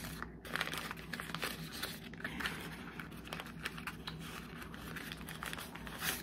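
Plastic bag crinkling continuously and softly at close range as pieces are pushed inside, a dense rustle with a few sharper crackles throughout.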